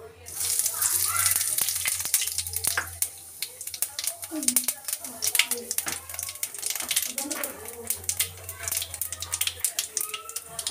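Cumin seeds sizzle in hot oil in a home kitchen pan while Indian potato curry is made, a faint steady crackle with sharp little pops throughout, and a voice talks quietly over it.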